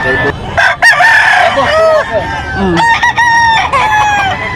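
Several roosters crow loudly and close by at a poultry market in Bocaue, overlapping one another, with hens clucking in between.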